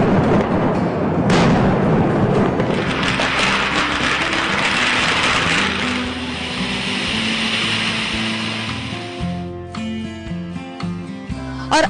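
Booming blasts and crackling bursts of fireworks lighting the night sky during a celebration, loud and continuous at first, thinning into scattered pops and bangs with background music toward the end.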